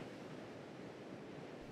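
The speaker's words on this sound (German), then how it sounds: "So richtig hohe Wellen sind hier." High ocean waves surge in the video game Salt, a steady broadband roar of surf and wind that fills the whole moment with no break or voice.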